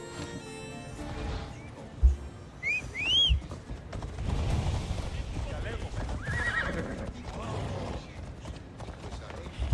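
A horse whinnies sharply in the video game Assassin's Creed Odyssey, followed by hoofbeats and clattering movement, with voices and game-like sound effects underneath.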